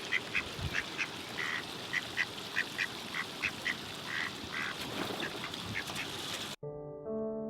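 A duck quacks repeatedly in a quick, steady series of clear calls, fairly close and alone over a hiss of outdoor background, until the sound cuts off abruptly near the end.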